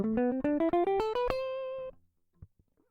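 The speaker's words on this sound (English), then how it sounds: "For example, we have our major scale, which sounds like this." A major scale played as a quick ascending run of eight bright, distinct notes, each starting sharply and ringing, with the final note held and fading out; clear and close, without any voices.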